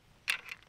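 Two quick, crisp metallic clicks close up as a KNS adjustable gas piston on a suppressed AK rifle is dialed, with near silence around them.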